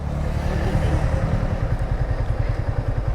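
A motorcycle rides nearby with a loud, steady low engine rumble that pulses faster and grows rougher in the second half, and no talking.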